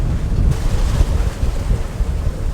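A sailboat motors upwind in open water, with strong buffeting wind noise across the microphone over a low engine rumble and sea wash, loud and continuous with no talk.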